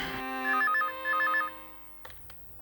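A telephone rings with two short electronic trilling bursts, then a brief clatter as it is picked up.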